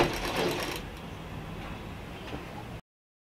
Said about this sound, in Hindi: वहाँ से हमको सिलाई स्टार्ट करते हुए पूरा राउंड में सिलाई करना है।